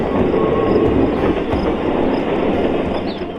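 A train sound effect laid over a model railroad scene: a loud, steady rumble of rolling rail cars with faint clickety-clack, continuous and close throughout, no voices.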